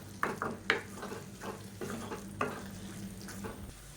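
Brinjal and tomato thokku is stirred in a pan: a spoon scrapes and knocks against the metal in irregular strokes over a low sizzle, close and fairly loud.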